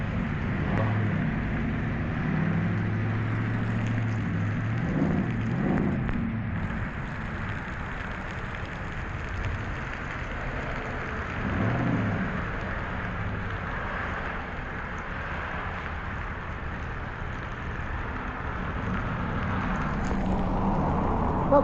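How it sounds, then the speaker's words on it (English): Steady rain and road noise while driving on a highway, a continuous broadband wash of tyres on wet pavement and drumming drops on the car, fairly loud throughout with low engine rumble and no talk. "might be the rain we're in the middle of"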